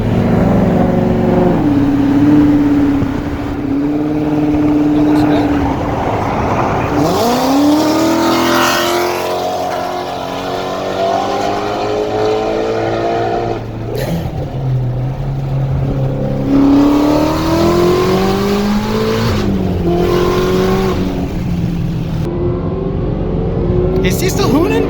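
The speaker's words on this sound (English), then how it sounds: "let's go drive the auto car" A supercharged Ford Mustang with a 10R80 automatic drives and revs, its engine climbing through rising pulls and shifting tone, loud and close, with people talking over it.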